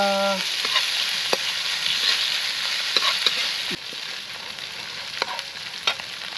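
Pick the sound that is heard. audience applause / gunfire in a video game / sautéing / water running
sautéing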